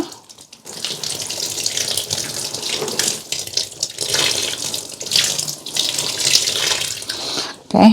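Lukewarm water is poured onto a tulsi plant, a loud continuous gushing splash that runs steadily for several seconds and ends with a short clatter.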